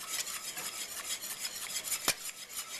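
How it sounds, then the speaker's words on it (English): Stirring a melting chocolate mixture in a pan gives a continuous soft scraping and rubbing with a faint clink partway through, quiet and steady, with no voices. "You'll see the chocolate's just been added to the pan, and I'm stirring it, and the chocolate will slowly melt into the mixture."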